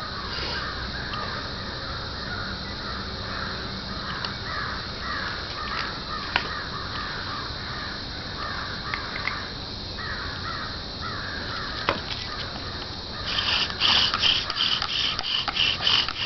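Crows or blackbirds cawing outdoors in a wooded survival setting, repeated harsh calls scattered across the stretch at moderate distance over steady background hiss, with a denser burst of calls near the end.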